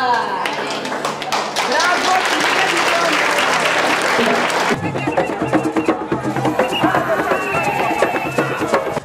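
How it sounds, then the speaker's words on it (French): Loud, lively clapping from a group, dense at first and then thinning into more distinct claps, with voices mixed in. "Applaudissons pour lui."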